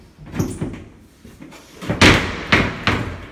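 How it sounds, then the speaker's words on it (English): Folding laundry doors in an apartment closed by hand: a series of wooden knocks and soft bangs, several close thuds, with the sharpest impacts near the end, no speech. "So I'll just close the folding doors."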